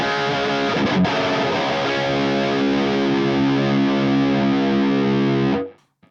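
An electric guitar played through a Sonicake Matribox II high-gain patch rings out as a heavily distorted sustained chord after a quick strum, holding loud and steady for several seconds before being abruptly cut.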